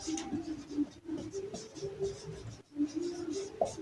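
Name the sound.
writing on paper while solving a maths problem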